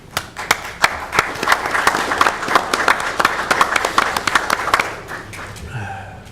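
A meeting audience claps after a motion passes, a sharp crackling applause that builds and then thins out, ending with a voice speaking as it fades.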